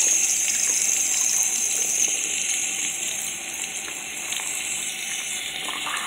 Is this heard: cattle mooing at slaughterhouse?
no